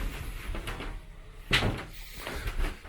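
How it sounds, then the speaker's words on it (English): Sliding door in the owner's stateroom of a boat, rolled shut along its track with a soft rumble and one sharp knock as it meets the frame, heard close up among faint room sounds. "We'll slide the door,"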